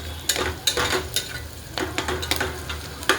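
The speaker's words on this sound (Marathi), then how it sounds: "कांदा, खोबऱ्याचा कूट, लसूण, अद्रक आणि कोथिंबीर आणि मिरची आणि कढीपत्ता छान असं परतायला लागलेलं आहे." Onion, coconut, garlic, ginger, green chilli, coriander and curry leaves frying in hot oil, a steady close sizzle broken by repeated scraping stirs of the spoon through the pan, with no talking.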